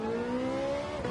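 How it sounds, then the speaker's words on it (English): Race car engine in Gran Turismo 7 holding a steady, high-pitched rev with a sustained, smooth tone, loud and close, with no talk over it. "Don't know what engine that was, but it sounds pretty."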